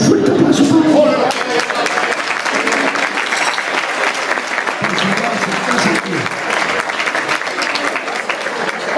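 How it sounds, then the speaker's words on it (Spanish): A large audience claps loudly and steadily at a tribute honouring a couple, the dense applause sustained throughout with a brief early cheer and faint crowd murmur mixed in. "Un fuerte aplauso, por favor."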